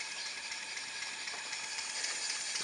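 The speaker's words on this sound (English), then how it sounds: "the steam exhaust at the moment is just venting to atmosphere, which isn't really helping the boiler, but nevertheless it does run very nicely" A Stuart No1 steam engine on its first run, its exhaust venting to atmosphere in a steady, continuous hiss with faint rhythmic mechanical ticking underneath.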